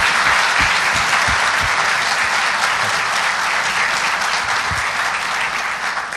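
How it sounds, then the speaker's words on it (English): Audience applause at a governors panel event, a dense, steady wash of clapping from a large crowd that holds strong for several seconds and fades slightly at the end. "Please give him a round of applause because he deserves it."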